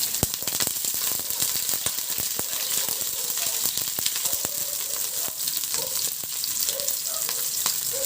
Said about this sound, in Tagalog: igisa ko na yung bawang. Maglalagay din ako ng sibuyas.